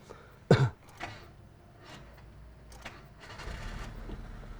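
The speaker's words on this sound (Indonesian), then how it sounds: "Dengar dulu suara mesinnya." A Mitsubishi Libero car engine starts with difficulty, giving one sharp, coughing burst, then a low, rough idle that swells gradually, fairly faint.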